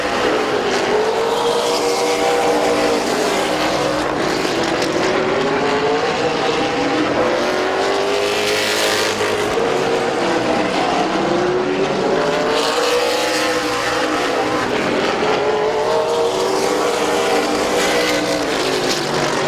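Race cars at Midvale Speedway, engines roaring continuously as cars sweep past in repeated waves, loud and close with rising and falling pitch, with no voices heard.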